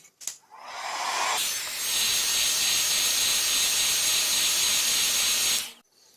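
Hot-air tool blowing onto a Samsung Galaxy Note 2 (N7100) screen, a steady close hiss that starts after a click, ramps up and runs evenly before cutting off.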